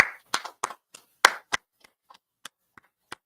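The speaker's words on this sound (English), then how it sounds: "Clap it up for class." A short burst of hand claps from a class audience, several quick crisp claps at first, then thinning to a few scattered sparse claps.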